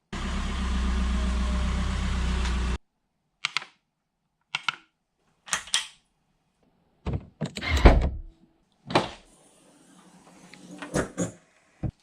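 A car idles and rolls into a garage with a steady engine drone that cuts off abruptly, followed by scattered thunks and clunks of doors and handling in the quiet space, no voices.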